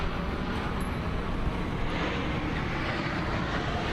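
A fixed-wing airplane passing overhead outdoors, a steady broadband engine roar that stays loud and even across the whole stretch, with no talking.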